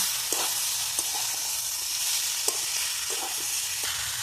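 Spices with salt, turmeric and sugar sauté in a pan, a steady hissing sizzle punctuated by light, regular spatula scrapes and taps, close and continuous, no voices.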